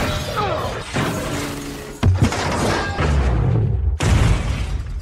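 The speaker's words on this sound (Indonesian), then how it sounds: "Tanpa peringatan, Dom menabrak mobil Hobbs hingga terguling." A car is rammed and rolled over in a movie action scene, a burst of crunching metal and shattering impacts with heavy thuds stacking over about five seconds, loud and close.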